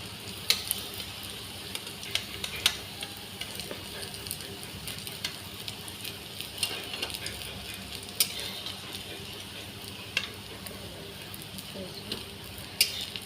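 Fritters (bora) made from rai khajan flowers frying in hot oil, giving a steady, close sizzle with scattered crackles and occasional sharp pops, and no voices.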